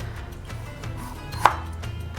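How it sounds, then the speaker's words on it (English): A knife slices potatoes into rounds on a cutting board, a faint steady chopping with one sharper knock partway through, quiet and close with no talk. "we want to cut the potatoes into circles"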